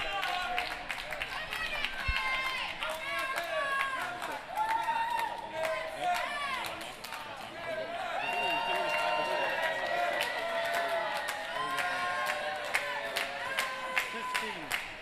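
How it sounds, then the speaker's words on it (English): Spectators at the ITSF World Cup 2011 men's doubles foosball final cheer, whoop and clap in a lively, sustained burst, with shouted voices and scattered applause rising and falling throughout, fairly close and loud. "Crowd having a great time watching this men's doubles championship match"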